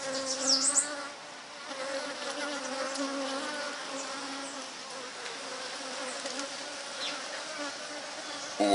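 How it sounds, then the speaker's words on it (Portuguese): Many city honey bees buzz continuously in a dense, steady drone, close and moderately loud, with slight swells as individual bees pass nearby. "São muitas abelhas. Essas são as abelhas da cidade."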